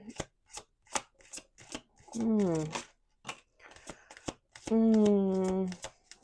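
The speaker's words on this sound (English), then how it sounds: "We're going to do 2 more shuffles." Rapid flicking tarot card shuffles come in quick bursts, with a person speaking between and over them.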